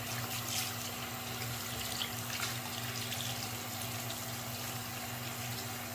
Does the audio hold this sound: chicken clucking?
no